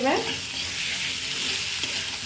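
Thick egg curry masala sizzles and is stirred in a pan, a steady close frying hiss that runs throughout with a brief scrape at the start.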